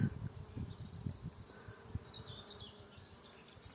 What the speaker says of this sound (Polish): na tych miętkach też tutaj jest cały rój szczółek. Dosłownie się krzątają cały czas.